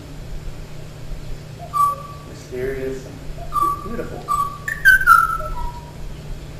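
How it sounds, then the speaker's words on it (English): A recording of the Kauai o'o, the extinct Hawaiian bird, plays as a series of clear, whistled notes, some held and some sliding, spaced irregularly, with a voice briefly speaking over part of it. "And what you just heard was a recording of the last o'o, the last surviving o'o."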